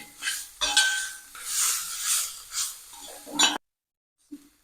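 A spatula scrapes and clatters through cabbage and carrot thoran with chilli in a metal pan for an Onam sadya, several rhythmic mixing strokes up close, then a sudden silence and one faint clink.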